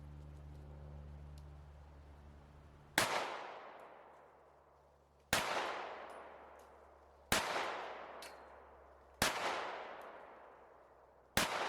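Five sharp rifle shots fire lead-free heavy shot ammunition at a target on an outdoor range, each loud crack ringing off in a long decaying tail, spaced a couple of seconds apart with no talk.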